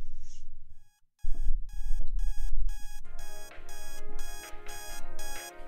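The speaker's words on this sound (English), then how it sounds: "That alarm is kind of triggering." An alarm clock rings as part of a song: loud repeating bursts of beeping tones pulse in a steady rhythm over a thumping beat, continuing after a brief silent drop near the start.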